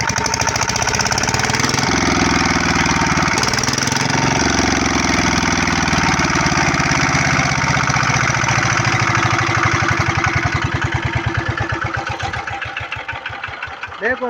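A Petter 6 horsepower engine runs loud and close throughout with a steady, rapid chugging beat that slows and drops toward the end, as if shutting down.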